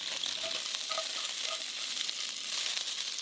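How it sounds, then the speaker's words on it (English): Seasoned shrimp stir-fry in hot oil over high heat, producing a soft, continuous hiss with brief pops and light stirring noises, fairly quiet and with no voices. "Place the seasoned shrimp inside and stir fry until pink for about 1 minute."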